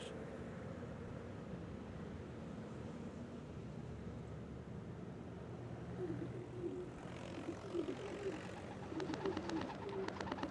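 Domesticated pigeons in a city give soft, low cooing calls against a steady urban rumble, with a light aircraft engine droning in the background.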